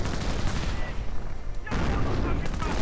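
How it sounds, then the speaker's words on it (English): British troops fire on a German Panzer in a real-time strategy game battle, producing dense overlapping gunfire and distant booming shots in a short burst that drops briefly and then resumes. "Panzer is suffering a bit under British fire"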